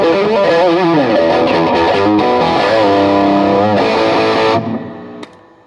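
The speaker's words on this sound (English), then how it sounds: "I'll add the gain from the overdrive pedal on the floor here" Electric guitar through an overdrive pedal into a Fender tube amp, playing a loud, distorted riff with sustained chords and bends, then cutting off and fading near the end.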